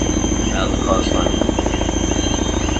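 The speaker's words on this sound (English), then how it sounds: "because they're getting in the helicopter right now" Helicopter in the military video game ARMA 3, a steady close rotor thrum with a fast rhythmic chop running throughout, mixed with talk.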